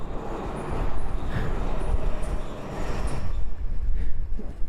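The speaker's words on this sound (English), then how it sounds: "Oh, big train going by." A big train rumbles past outdoors as a broad, continuous roar that stays loud throughout and eases slightly near the end.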